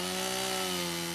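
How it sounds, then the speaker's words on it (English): A chainsaw cuts through trees pinning a stuck Toyota off-road, a brief, steady, fairly quiet buzzing whine heard alone. "we took a chainsaw to the trees that were holding the Toyota in place"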